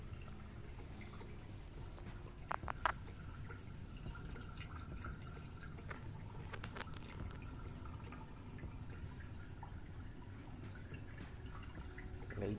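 Rainwater trickling lightly from a harvesting pipe into a borewell after rain has nearly stopped, a faint, continuous watery flow with occasional drips, alone and low in level.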